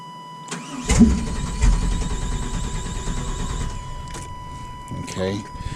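An old OBS truck engine cranks over and struggles to catch, a rough mechanical churning that surges and sags for several seconds without settling into an idle, heard up close with a constant electrical whine in the background.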